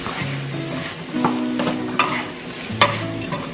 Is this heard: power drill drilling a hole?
no